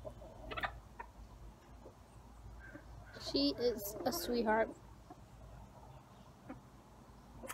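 A hen gives a brief run of clucks close by among a backyard flock while someone talks over it, with quiet stretches before and after.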